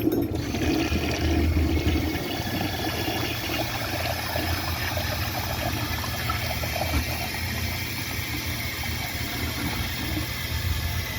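A 1983 Vitromex toilet flushes with a loud, steady rush and swirl of water that runs throughout, close and continuous with no talking.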